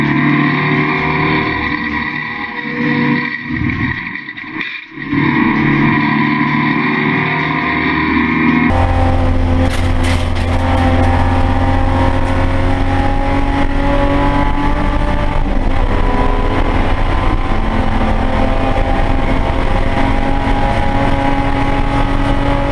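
Saloon race cars roar side by side at Phillip Island Raceway, a loud, sustained engine drone at racing speed that swells as they come onto the straight, with no talk over it.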